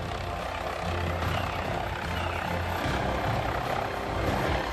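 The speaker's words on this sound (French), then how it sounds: "Mission accomplie pour Didier, l'hélicoptère peut rejoindre sa batte." A police helicopter flying during an operation, its steady rotor and engine roar loud and continuous throughout, with no voices.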